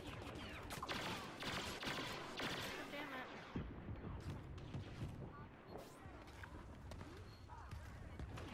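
Blaster fire in Star Wars Battlefront on a desert map, bursts of rapid shots clustered early then sparser, faint and mixed with battle noise while a player talks over it.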